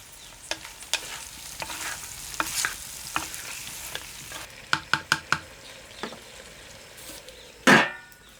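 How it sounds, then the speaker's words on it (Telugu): Ridge gourd pieces frying in oil are stirred with a utensil, giving a steady sizzle broken by sharp scraping knocks that cluster toward the end, finishing with one longer scrape; no one speaks. "ఇదంతా బీరకాయ ముక్కలకి పట్టుకునేలా బాగా కలుపుకుందాం."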